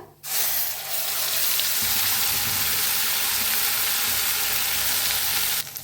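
Cumin, asafoetida and ground masala roasting in a hot pan while being stirred, a steady broadband sizzle holding at even loudness from start to finish with a few soft scraping movements.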